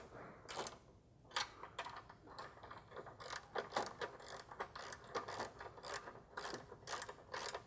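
A ratchet clicks rapidly in repeated bursts while tightening 13mm factory exhaust clamps during a downpipe install on a VW MK7/MQB car, close and crisp with short pauses between strokes.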